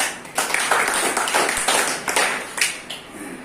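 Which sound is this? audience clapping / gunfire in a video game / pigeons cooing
audience clapping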